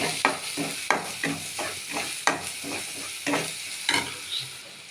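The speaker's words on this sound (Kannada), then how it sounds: "ಒಂದು ಅರ್ಧ ಸ್ಪೂನು ಗರಂ ಮಸಾಲ, ಒಂದು ಅರ್ಧ ಸ್ಪೂನು ಮೆಣಸಿನ ಪುಡಿ, ಚಿಲ್ಲಿ ಪೌಡರ್, ಇದೆಲ್ಲ ಸ್ವಲ್ಪ ಫ್ರೈ ಮಾಡೋಣ" Garam masala and chili powder frying in a pan for spinach palak, sizzling steadily while a spoon scrapes and stirs in regular, close strokes about once a second.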